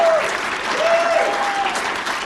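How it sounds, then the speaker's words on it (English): An audience at a PechaKucha speaker event in Cleveland applauds, a broad, continuous wash of clapping from a crowd, heard fairly close and sustained the whole way, with a faint voice briefly audible underneath. "let's give them a round of applause for being here"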